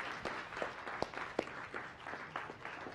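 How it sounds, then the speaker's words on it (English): Faint applause from a modest audience at a science cafe talk on endangered turtles, a few seconds of scattered, fairly sparse clapping heard from a distance with no talk over it. "Let's give them a round of applause."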